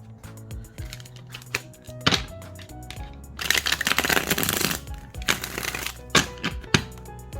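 Soft Fantome tarot cards being shuffled by hand close up, a steady run of papery riffles and flutters with occasional sharper taps and a denser burst midway, no voices.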